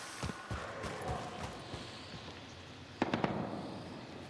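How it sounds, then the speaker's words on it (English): A bomb goes off in the zombie game Dying Light: The Beast, heard as a cluster of sharp cracking pops around the three-second mark over a low, faint game ambience, with a few earlier scattered bursts. "Oh, that's a bomb."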